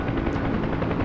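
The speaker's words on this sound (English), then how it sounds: "while I crash the fucking helicopter here" Huey helicopter in the DCS flight sim, a loud dense rotor-and-engine roar that stays steady and close, with clattering impact noise mixed in and no speech.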